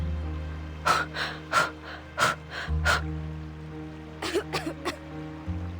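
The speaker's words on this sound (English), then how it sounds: "The girl coughs up some water." A girl in a video game coughs up water after nearly drowning: a series of short, wet coughs and gasps, a few bursts at first and then a quick cluster, set against a steady low background hum.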